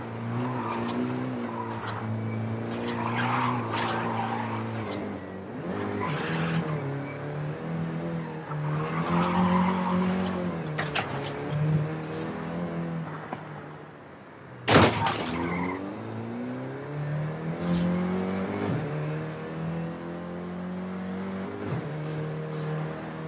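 A Volkswagen Golf GTI in the Forza Horizon 5 video game drives with a steady engine drone, tires squealing and skidding at intervals, and a sharp crash-like burst partway through.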